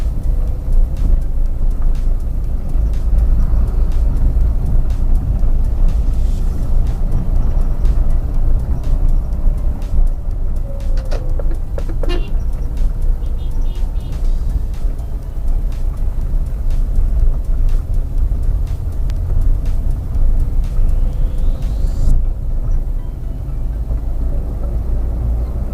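A car driving steadily with a continuous low engine and road rumble while the driver works the clutch to change gears, a brief tonal shift near the middle, no talk over it.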